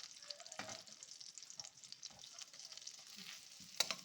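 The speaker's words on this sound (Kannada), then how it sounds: "ಮುಂಚೆ ಬೆಳ್ಳುಳ್ಳಿ ಮತ್ತು ಶುಂಠಿ ಹಾಕ್ಬಿಟ್ಟು ಸ್ವಲ್ಪ ಫ್ರೈ ಮಾಡ್ಕೊಳ್ಳೋಣ." Garlic and ginger fry in hot oil, giving a steady soft sizzle with scattered crackles and a couple of louder stirring scrapes. No one speaks.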